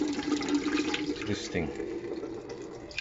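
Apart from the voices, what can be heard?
water being poured into a pressure canner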